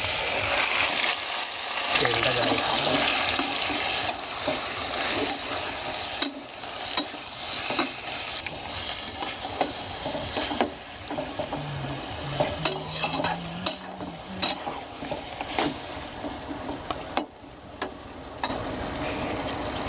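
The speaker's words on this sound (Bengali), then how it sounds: "দেখুন বন্ধুরা, চিকেনটাকে কষিয়ে নিচ্ছি।" Marinated chicken sizzles and fries with lightly browned onions in a wok for a Bengali-style chicken curry, with a loud, continuous crackle and repeated scraping strokes of a spatula stirring close by.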